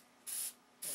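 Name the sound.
spray can of DC 540 primer dust coat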